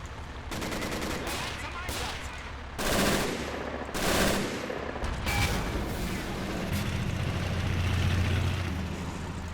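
Machine gun fire in Men of War: Assault Squad 2, rapid rattling bursts and several heavy booms up close, over a constant rumbling battlefield din.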